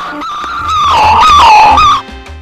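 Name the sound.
dachshund singing (howling)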